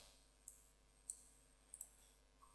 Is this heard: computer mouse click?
yes